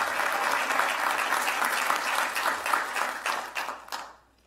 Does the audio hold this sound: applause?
yes